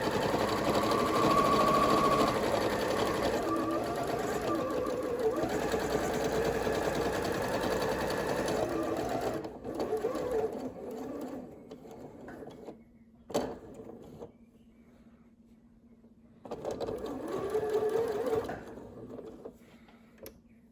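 A sewing machine stitches down the long side of a triple-pleated fabric face mask, running fast and steady in a close, dense whir, then stopping and restarting in shorter bursts after a pause.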